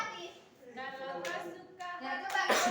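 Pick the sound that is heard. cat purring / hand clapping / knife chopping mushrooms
hand clapping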